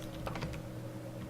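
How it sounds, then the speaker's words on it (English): A few quick taps on a computer keyboard's arrow keys, faint and close, over a low steady background hum. "let's use the arrows on our keyboard to kind of bring it right there"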